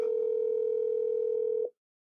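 A telephone call tone rings out as a steady single-pitch drone for about a second and a half, then cuts off abruptly into silence, with no one answering.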